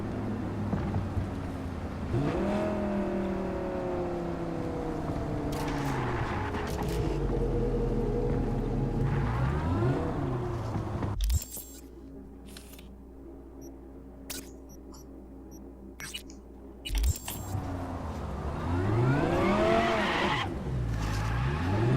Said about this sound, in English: this is a rear-wheel drive sports car.